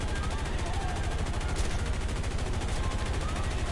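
Machine gun fire striking an aircraft in War Thunder, a fast, unbroken stream of rattling shots and impacts that runs loud and steady for the whole stretch with no voices over it.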